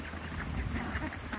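Backyard ducks quack in a low, noisy chorus, a few overlapping calls heard at a moderate distance with no talking.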